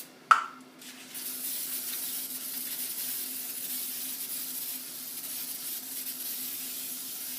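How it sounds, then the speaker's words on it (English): A sharp click, then a steady hissing spray from a non-stick cooking spray can held close, continuing evenly for several seconds with no talking. "you always want to use non-stick cooking spray"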